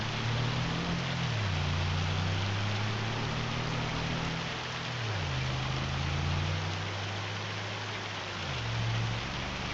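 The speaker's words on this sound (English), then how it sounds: "It is still raining too." Steady broadband hiss of rain falling, with a low engine hum rising and falling underneath throughout.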